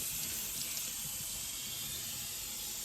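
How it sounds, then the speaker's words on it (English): Tap water runs steadily into a Kraus stainless steel sink during a rinse, a close, continuous hissing splash with no talking. "The thorough rinse is really important. Get all the soap out of there."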